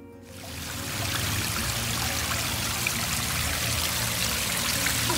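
Water from a garden wishing well waterfall trickles and splashes steadily into a rock bowl, a continuous close, moderately loud wash of running water with no voices.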